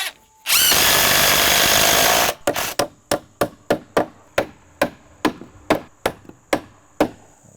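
A power drill drives 2.5 inch joist hanger screws into wooden deck stair stringers. A continuous loud whir for about two seconds gives way to a long run of rapid, evenly spaced hammering impacts close by.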